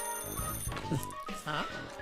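Phone ringing in the PaRappa the Rapper 2 video game: a bright, repeated electronic ring tone over game music, with a voice talking at the same time.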